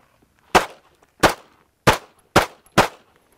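Five rapid handgun shots fired at a target on a range, loud sharp cracks spaced about half a second apart and ringing briefly, with near silence between them.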